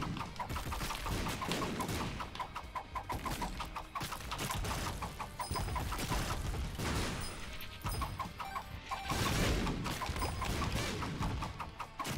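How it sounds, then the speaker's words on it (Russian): Rapid, rhythmic gunfire from spammed shots in The Binding of Isaac, with the Spirit Sword and Ipecac, pops steadily through a dense, noisy game soundtrack, the shots firing continuously in quick succession. "откуда мне еще выстрелы берутся?"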